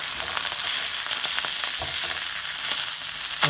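Salted fish fry in a pan with only a little oil for a papaya curry, giving a dense, continuous hiss with scattered crackles and pops, close and loud, with no voices.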